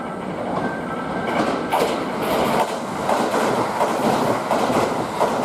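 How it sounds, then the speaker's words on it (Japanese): A Kintetsu train passes through platform 3 at Nabari station, with a steady loud rumble and clickety-clack of wheels over rail joints close by and a faint high squeal. "3番乗り場を電車が通過します。"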